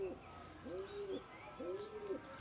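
A male pigeon coos in two rounded, rising-and-falling calls, close and moderately loud against a quiet background.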